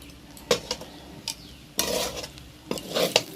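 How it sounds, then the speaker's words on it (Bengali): Spatula stirring and mixing homemade chowmein with fish and chillies in a pan, giving a few scraping, clattering bursts separated by quiet pauses. "ভালো করে মিক্স করে নেব"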